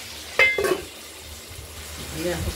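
Potatoes frying in a pan with a soft sizzle, broken by a couple of sharp clinks of a utensil against the pan near the start and a brief stirring clatter toward the end.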